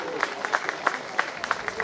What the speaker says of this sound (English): Big round of applause for Dr.